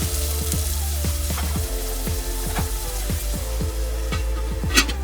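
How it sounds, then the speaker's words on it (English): The base for Swahili biryani, onions with garlic, fries in a pan. It makes a loud, continuous sizzle broken by a repeating series of spoon knocks and scrapes against the pan as it is stirred, with no voices. "Mix it all in there. Let it cook for about a minute."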